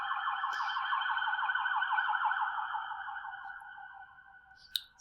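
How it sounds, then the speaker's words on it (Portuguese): A siren wails steadily with a rapid warbling tone, loud at first and gradually fading as it moves away, ending with a brief sharp click. "Foi aí uma ambulância."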